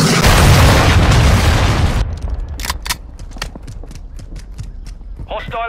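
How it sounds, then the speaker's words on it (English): A cruise missile explosion in Call of Duty Modern Warfare 2, a loud, roaring blast that rumbles for about two seconds and dies into sharp scattered pops and distant gunfire, with a radio-style voice near the end. "Hostile cruise missile launched."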